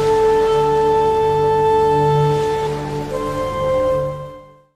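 A traditional Native American flute, of the kind made from eagle bone and played at powwows, holds steady sustained breathy tones that shift pitch slightly and fade out at the end, loud and alone.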